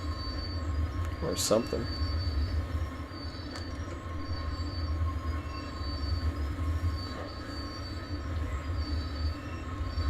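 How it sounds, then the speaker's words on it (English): Train brakes squealing in the Train Sim World 2 video game, a short high-pitched squeal early on over a steady low rumble of rolling rail cars, with someone talking briefly. "that's over doing the freaking brake noise"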